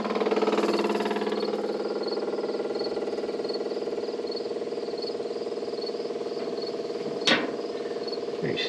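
An electric fuel pump runs on a 1937 Ford flathead V8 taildragger with a new carburetor, giving a steady mechanical hum with a fast, regular ticking pulse throughout and a brief sharp click near the end.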